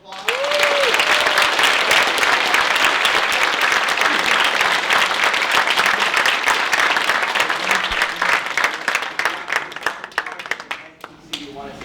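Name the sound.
audience applause after a STEM talk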